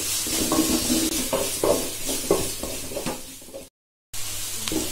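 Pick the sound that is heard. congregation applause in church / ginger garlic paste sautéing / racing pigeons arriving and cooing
ginger garlic paste sautéing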